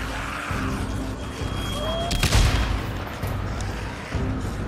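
A proximity bomb detonates in the video game Days Gone, a single deep boom in the middle of steady outdoor game ambience and rumble.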